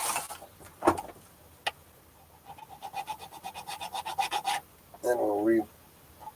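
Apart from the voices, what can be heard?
filing notches in a parlor guitar nut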